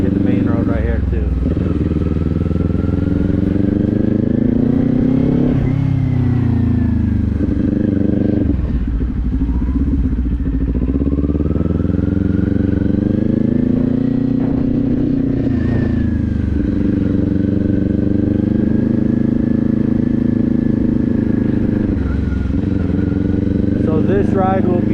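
A motorcycle ridden on a main road during a first-time ride, its engine droning steadily and loudly throughout, with pitch rising and falling as the rider shifts and accelerates, wind rush over it and a voice talking at times.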